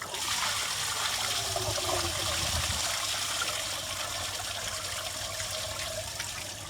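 Water flushes through a Ford Model T engine block to wash out rust particles, a constant rushing, gurgling flow heard close up with no one talking.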